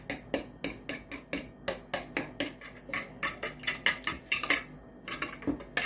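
Carrot cake batter of flour, spices, eggs and vanilla being stirred in a bowl, a utensil clinking steadily against the sides in a quick, even rhythm, close and clear with no talk.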